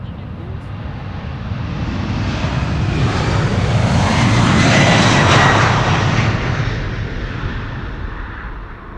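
United Boeing 767-300 on flight 21 to Houston departs Amsterdam Schiphol, its jet roar swelling to a loud peak near the middle and then easing off as it passes.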